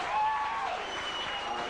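A crowd at a 1992–93 Chorley versus Keighley rugby league match applauds and cheers a successful kick, a dense, steady wash of clapping and crowd noise heard from a distance.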